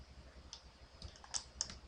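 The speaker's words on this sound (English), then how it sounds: "Shift click." A computer mouse shift-clicking gives a couple of faint, light clicks about a quarter second apart, over quiet room hiss.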